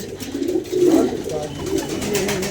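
Pigeons coo softly and steadily nearby, a low rolling murmur over light background noise.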